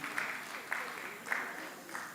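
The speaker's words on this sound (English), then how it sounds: "Please, a round of applause." A crowd claps in a steady wash of applause, moderately loud but distant-sounding, with a few sharper accents standing out.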